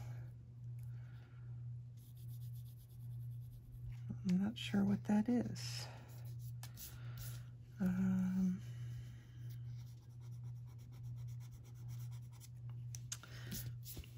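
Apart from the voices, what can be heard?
Prisma colored pencil on paper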